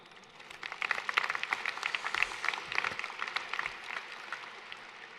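Graduating students at a high school commencement ceremony applaud, a moderately faint, dense patter of many hands that swells early and then slowly tapers off.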